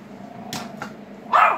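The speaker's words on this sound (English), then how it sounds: "my dogs are fighting over some." Dogs at a dog-care home fight indoors, with short snarls and growls followed by a louder burst of barking near the end.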